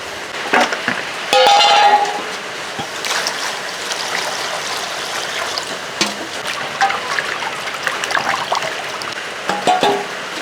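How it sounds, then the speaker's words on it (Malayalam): Water running and trickling as it drains off freshly washed chicken pieces in a kitchen, a steady splashing stream with a louder gush near the start and occasional clinks of handling. "വെള്ളം കളയട്ടെ"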